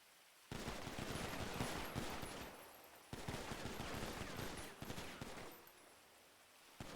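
Rapid overlapping gunfire volley in GTA V roleplay, dense crackling bursts starting abruptly and running in two long stretches with a brief break, moderately distant and without talk.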